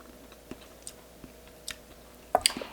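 Quiet chewing of homemade gingerbread being tasted, a few soft bites and crunchy mouth sounds spaced out over a faint room background, ending in a slightly louder crunch.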